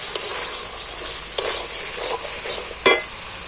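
A ground spice paste of cashew, poppy seed and chalmugra fries in a pan, a soft continuous sizzle broken by a few sharp scraping clacks as it is stirred.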